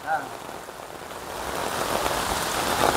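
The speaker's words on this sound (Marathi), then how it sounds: "जाम जास्त पाऊस आला." Heavy rain with wind pours down over village farm fields, a dense, steady hiss that grows louder across the clip, with a voice briefly heard near the start.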